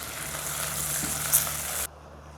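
Chopped onion frying in ghee with cinnamon and cloves: a steady, close crackling sizzle that cuts off abruptly near the end, leaving near silence.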